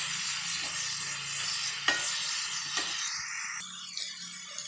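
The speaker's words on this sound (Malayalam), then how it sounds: "ഏതും കൂടെ ചേർത്ത് നന്നായിട്ട് ഒന്നുകൂടി ഒന്ന് വഴറ്റിയെടുക്കാവേ" Mashed potato samosa filling is sautéed in a pan, giving a steady soft sizzle with a few brief scraping strokes of a spoon, quiet and close throughout.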